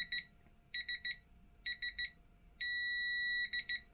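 A torque tool on a LiFePO4 battery terminal beeps in short triple bursts, then holds one long steady tone before more quick beeps, close and clear with no talking.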